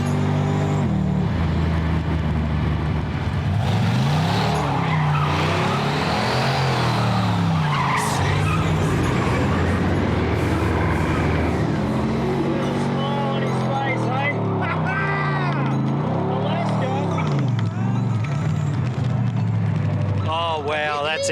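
Car driven hard on a road, engine revving and rising and falling through gears while tyres squeal and skid in repeated bursts, loud and close from inside the cabin, with occasional talk over it.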